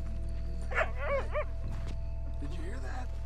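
A dog in Red Dead Redemption 2 gives a few short yips and whimpery barks in quick succession, fairly faint, while people talk.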